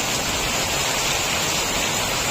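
Steady rain pouring in Aurangabad during a thunderstorm with fine hail, a dense continuous hiss without pauses, loud and even throughout, no distinct thunder or voices.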